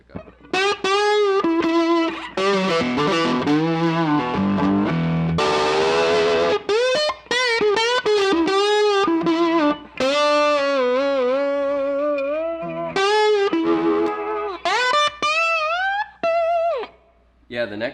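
Duane Allman's 1961 Gibson Les Paul SG electric guitar played with a slide on the neck pickup, distorted gliding notes and sliding pitch bends in loud bursts with short gaps.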